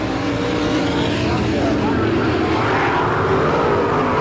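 Sprint race cars roaring around a dirt oval, dense loud engine drone running continuously, with an announcer talking over the noise.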